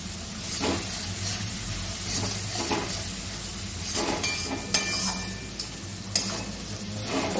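A homemade spice masala for a Maharashtrian matki dish is sautéed in a pan. It gives a steady, close hiss and sizzle, with a spoon scraping and stirring through it and a few sharp metallic clinks near the end.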